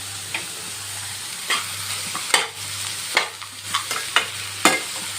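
Cashews and almonds sautéing in oil over a full flame, with a soft constant sizzle and a string of scraping stirs and spoon knocks against the pan, close and moderately loud, no voices.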